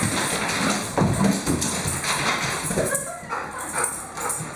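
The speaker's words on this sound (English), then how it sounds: "Here's Grandma playing with the grand puppy." A puppy plays with a woman indoors, giving soft whimpers and yips amid shuffling paws and rustling, close and moderately loud, with faint human sounds mixed in.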